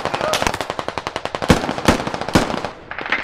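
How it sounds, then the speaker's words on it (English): A machine gun fires in the military shooter game Squad, giving a rapid, loud, regular stream of shots with several heavier bangs mixed in, close and sustained. "Medic, medic, it's an MG."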